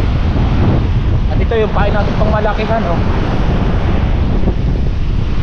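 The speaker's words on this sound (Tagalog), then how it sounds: "ang lakas ng hangin" Strong typhoon wind roars steadily across the microphone with water sloshing beneath it, while someone talks briefly over the noise.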